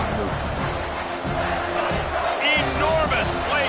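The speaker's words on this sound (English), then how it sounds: "3rd down, and this crowd is bringing down the house." A college football stadium crowd at a Michigan game roars loudly on third down, a dense sustained wall of cheering and yelling with shouts rising near the end, a commentator's voice faintly mixed in.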